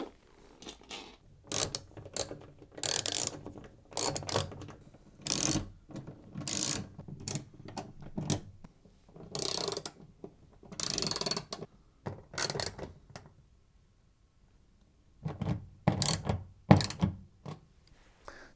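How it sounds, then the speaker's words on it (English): Repeated bursts of ratcheting and mechanical clicking as bolts are screwed back into a Zanussi washer dryer's back panel, separated by short pauses, close and fairly quiet. "refit the back panel before screwing the bolts back in"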